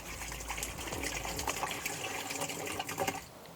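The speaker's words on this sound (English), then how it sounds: "We again measure another 500 mils of water to make it 1 liter." Water is poured to dilute a neem-based organic pesticide, making a continuous splashing gush that fills the whole stretch at moderate loudness and eases off in the last moment.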